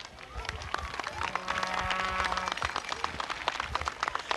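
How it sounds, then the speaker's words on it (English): A crowd in the stands at a high school football game applauds band seniors and their parents, scattered sharp claps at middling distance with murmuring voices and a brief tonal sound in the middle. "Let's have a nice round of applause for our band seniors and their parents."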